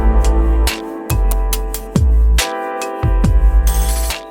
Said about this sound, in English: I'm going to walk you through the steps to create a lo-fi track that sounds something like this.